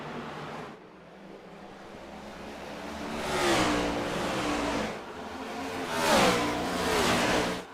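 Simulated NASCAR stock cars in iRacing run side by side into turns 3 and 4 at Richmond Raceway, engines droning loud and close with two rising revving surges as they sweep past.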